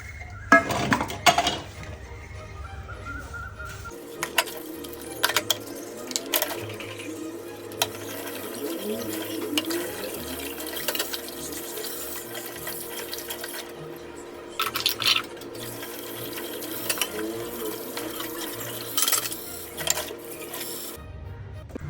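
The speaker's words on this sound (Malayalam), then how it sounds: "പാത്രങ്ങളൊക്കെ ഉണ്ടായിരുന്നു കഴുകാനുള്ള, അതൊക്കെ ഒന്ന് കഴുകി വെക്കാനായിട്ടോ." Dishes being washed in a kitchen sink under a running tap, with steady water flow and scattered clinks of plates and utensils throughout; no one speaks.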